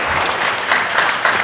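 An audience at a committee meeting bursts into dense, sustained applause, loud and close, with no pauses across the short stretch.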